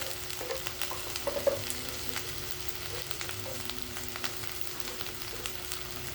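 Coriander powder and garam masala frying in a pan for aloo gobi, with a quiet continuous sizzle and light scattered stirring ticks, faint and steady with no talk.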